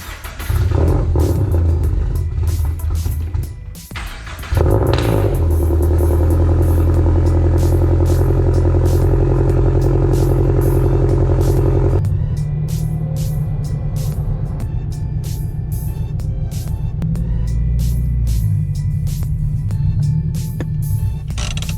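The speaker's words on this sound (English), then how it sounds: "So now let's go ahead and get the car all started up." Toyota GR86 engine cranking and catching, then a steady loud idle that drops to a lower, settled running note partway through, heard close up with no talk.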